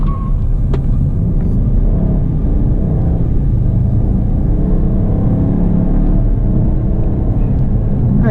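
A Bentley Mulsanne, rear-wheel drive, accelerates hard with a loud, steady, close engine roar and deep rumble, traction control cutting in as the tires slip slightly.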